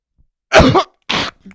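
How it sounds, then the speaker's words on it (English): Two sharp coughs, the first longer and harsher, the second shorter, close to the mic with silence around them. "Sorry about the cough. I assume you can hear it."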